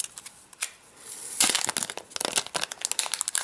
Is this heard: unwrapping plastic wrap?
yes